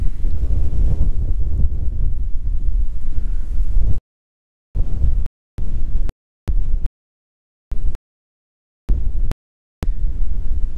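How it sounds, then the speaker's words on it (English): Loud, rough wind buffets the microphone, then the sound cuts in and out in short bursts separated by dead silence. "It's really, really windy."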